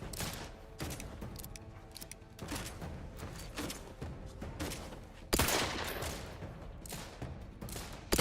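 Gunfire in Outer Worlds 2 rattles in fairly quiet, rapid automatic bursts with short pauses, then a louder, closer volley near the end, with no voices.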